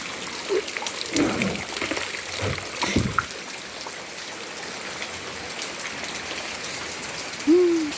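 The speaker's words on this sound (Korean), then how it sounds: "빗물 떨어지는 거 봐요. 엄청 떨어지지." Steady rain falls outdoors, with drips splashing close by and a few faint tonal calls rising over the constant hiss.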